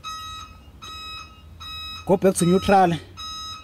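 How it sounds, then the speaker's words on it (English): A Scania G460 truck with Opticruise sounds its reverse alarm as a steady series of loud, high beeps, repeating throughout and continuing while someone speaks briefly in the middle. "Can you hear the alarm of the reverse?"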